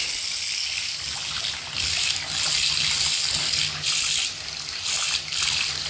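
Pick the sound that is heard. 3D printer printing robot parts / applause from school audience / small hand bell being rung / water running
water running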